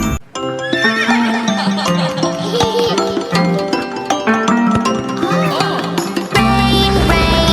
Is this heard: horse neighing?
yes